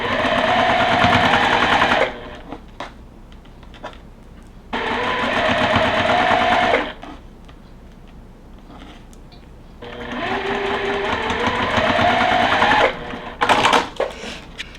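A sewing machine stitches a row onto a quilt block in three long, steady mechanical runs of whirring hum, each a few seconds long, separated by short quiet pauses and close to the microphone.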